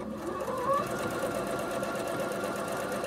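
A Bernette B37 sewing machine stitches a buttonhole, a steady rapid mechanical whir and needle clatter at constant speed, close and alone.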